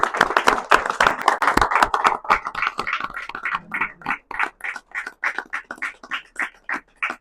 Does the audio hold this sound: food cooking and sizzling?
no